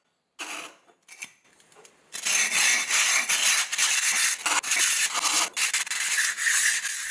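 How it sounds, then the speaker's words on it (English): Ceramic pot lid ground against bare clay with carborundum grease paste, a harsh gritty rubbing that starts with short scrapes and then becomes vigorous continuous back-and-forth grinding, close up with no talk. "I vigorously grind these two components together until they fit"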